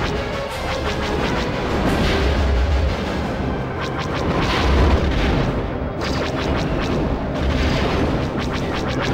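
Missiles bursting in the N64 space combat game Star Wars: Rogue Squadron, a dense, continuous barrage of loud, rumbling booms that swell and overlap for several seconds.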